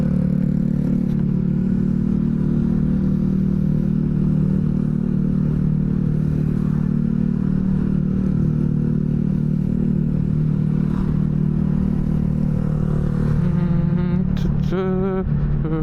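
A KZR automatic scooter riding along, its engine droning steadily and loudly close by with constant road rumble and whir, briefly rising in pitch near the end.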